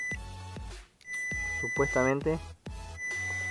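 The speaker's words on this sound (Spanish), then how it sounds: "ahí hay movimiento de pescado cuando marca la alarma" Beeping alarm from a budget fish finder echo sounder used on a kayak, with repeated electronic tones and pulses running under someone speaking Spanish.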